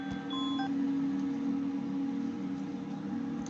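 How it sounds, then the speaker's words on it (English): A personal alarm going off during commentary: a short cluster of high electronic beeps near the start over a faint steady hum, with no talking. "I don't know if y'all heard that. That was my alarm."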